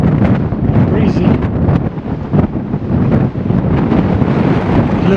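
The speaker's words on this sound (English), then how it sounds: "Breezy." Strong wind buffeting the microphone near the top of the Blue Ridge and Marcus Trail loop in Guadalupe Mountains National Park, a loud, continuous rumbling roar with gusty surges.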